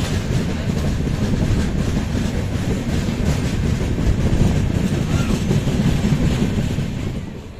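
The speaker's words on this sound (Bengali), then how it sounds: "12857 তাম্রলিপ্ত এক্সপ্রেস ধরে আমি চললাম আমার গন্তব্যের উদ্দেশ্যে।" Riding aboard the 12857 Tamralipta Express passenger train in India, a loud continuous rumble of the carriage with rhythmic clickety-clack of wheels over rail joints, steady from start to finish.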